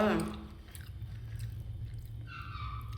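Close, soft chewing and biting of vegetables during a meal, moist mouth noises under faint background sound, with a brief vocal tone at the start.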